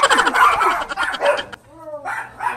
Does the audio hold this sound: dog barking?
yes